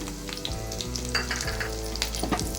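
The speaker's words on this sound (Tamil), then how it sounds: "இந்த பட்டரில் நல்லா இதை வதக்கிட்டு" Sliced green chillies sauté in browned butter with ground pepper in a pan, a continuous close sizzle and crackle with brief stirring scrapes and clinks over it, and no voices.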